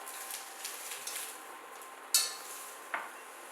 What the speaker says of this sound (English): we're just going to saute this onion lightly